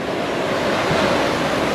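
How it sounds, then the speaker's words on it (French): Ocean waves break on an Indonesian beach in the north-east of Sulawesi. The surf roars steadily and loudly at close range, with wind across the microphone and no speech. "c'est bruyant ici à cause des vagues"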